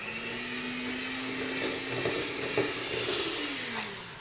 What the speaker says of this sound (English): So now we're just going to mix this together until light and fluffy